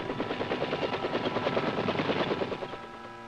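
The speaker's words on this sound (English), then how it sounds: "Army aviators get in with their dust-off helicopters" Army dust-off medevac helicopters fly during the Vietnam War, their steady rotor thumping loud and continuous throughout, with no voices.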